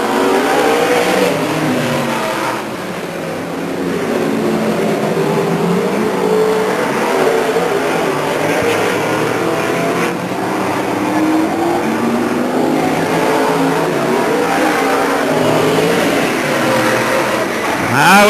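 Race cars at Stockton 99 Speedway roar continuously and loudly, engines droning and swelling as the pack circles the oval, with faint announcer talk beneath the din.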